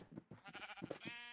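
Glow sheep in the video game Minecraft bleat in a quick run of several wavering, nasal calls, close and fairly soft, with no one talking.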